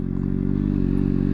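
A motorcycle engine runs steadily at a low idle, loud and close, with a dense, even rumble and faint clatter as a beginner rider shifts into neutral.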